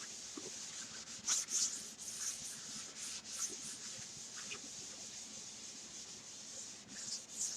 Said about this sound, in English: That is our Chalk Couture paste wax. And we're just going to buff it in.